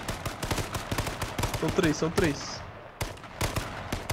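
Rapid bursts of gunfire in the video game H1Z1 Battle Royale crackle almost nonstop, loud and close, while a player talks briefly over the shooting.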